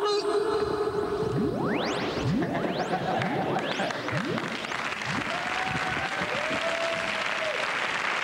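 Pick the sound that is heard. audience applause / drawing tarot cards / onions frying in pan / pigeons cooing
audience applause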